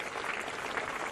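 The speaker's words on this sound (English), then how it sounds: "young Lonergan coming from the field now. As the crowd claps him off, as do the players" Crowd at Bond University on the Gold Coast clapping a player off the field during an under-20s rugby match between Australia and Fiji, a steady, fairly distant wash of applause throughout.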